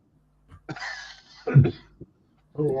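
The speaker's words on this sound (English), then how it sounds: "It makes you cough as well." A few harsh coughs and throat-clearing sounds come in short bursts, close by, followed by the start of a voice.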